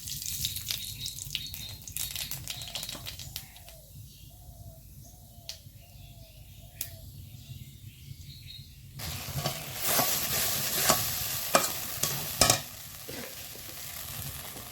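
Black cumin seeds dropped into a very hot pan, with a steady crackling sizzle; birds coo softly partway through, then the frying grows louder and busier with stirring.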